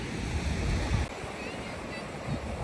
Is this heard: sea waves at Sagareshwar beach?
yes